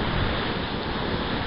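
Ocean surf at Turner's Beach near the Clarence River entrance and its breakwater roars as a dense, constant wash mixed with wind buffeting the microphone, loud and unbroken, with no talking.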